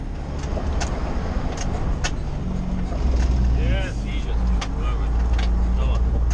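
A fire engine rumbles steadily from inside the cab on its way to a stored-grass fire, with a constant low drone of the engine and road noise and occasional clicks and creaks.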